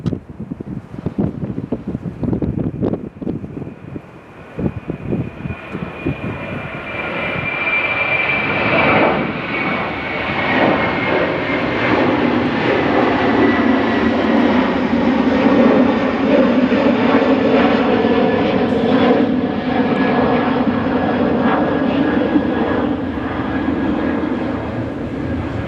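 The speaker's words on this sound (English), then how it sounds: "I hope Irish Beast and all our friends in Ireland caught Aer Lingus taking off there from 28 right" Aer Lingus airliner taking off from runway 28 right at Chicago O'Hare, a loud jet roar that builds and holds with wind buffeting the microphone, then slowly fades as it climbs away.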